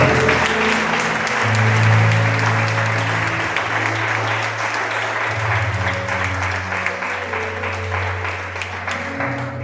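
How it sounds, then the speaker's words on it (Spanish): A church congregation applauds loudly during a Spanish-language worship service, a dense sustained wash of clapping over a low steady musical hum that keeps going for about ten seconds. "den un fuerte aplauso al Señor"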